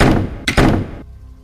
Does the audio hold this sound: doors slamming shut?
yes